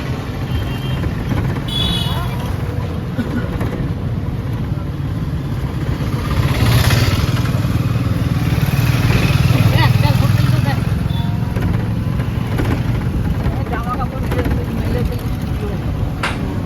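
A steady motor drone with road rumble comes from riding in a toto, an electric rickshaw, through a town near Puri, swelling midway with passing traffic and faint street sounds around it.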